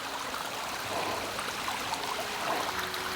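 A small waterfall on the Pacific Crest Trail in forest gives a steady, close rush and splash of falling water, continuous with no talk.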